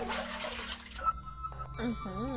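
A toilet flushes in the video game Ib, a brief rush of water lasting about a second, followed by wavering tones while a person talks over it.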